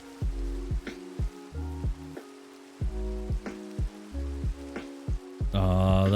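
Steady rain in Minecraft (modded, Vault Hunters jungle area) patters continuously in the background, while repeated block-placing thuds and clicks sound at an even rhythm, ending in a brighter, louder burst.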